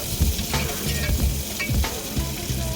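Chopped onions and green chillies fry in oil with a constant close sizzle, punctuated by rhythmic scraping strokes of a spoon stirring the pan.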